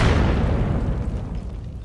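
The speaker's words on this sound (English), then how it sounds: "Impact grenade comes out again from" An impact grenade goes off in the VR shooter VAIL, giving one loud booming blast that decays into a rumbling tail over about two seconds.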